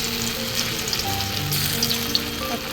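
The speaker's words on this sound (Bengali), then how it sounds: "লো মিডিয়াম ফ্লেমে সয়াবিনগুলো ভাজছি" Soybean pakoras frying in a shallow layer of hot white oil over low-medium flame, giving a steady dense crackling sizzle without pause, no talking.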